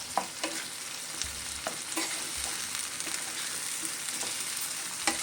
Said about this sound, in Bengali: এবার আমি এটা একই সঙ্গে খুব ভালো করে নেড়ে দেব